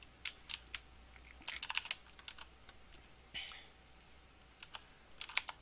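Rapid spam clicking on a computer mouse and keyboard during a lagging Minecraft game, sharp clicks in quick irregular clusters, close and moderately loud, over a low hum.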